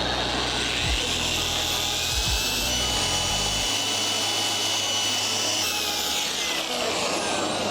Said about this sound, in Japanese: 右半分の上半分だけをちょっと磨いてみました。